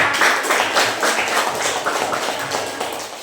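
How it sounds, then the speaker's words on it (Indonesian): A classroom of students applauds a presenting group with dense, overlapping clapping that stays loud and steady for a few seconds. "Beri tepuk tangan untuk kelompok 2."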